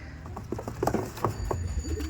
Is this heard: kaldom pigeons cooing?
yes